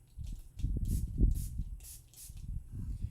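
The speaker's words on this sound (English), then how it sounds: "I'm just going to spray this. I'm going to spray it off to the side" Several short hissing bursts from a spray bottle spraying paint onto an art journal, close by, with soft handling noises and low thumps in between.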